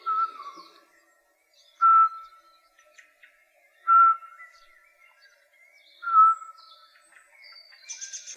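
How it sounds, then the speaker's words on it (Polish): Common blackbird alarm calls outdoors: three loud, clear, separate call bursts spaced about two seconds apart, with fainter birdsong in the background and a sharper burst at the end. "Tutaj mamy głos alarmowy właśnie kosa."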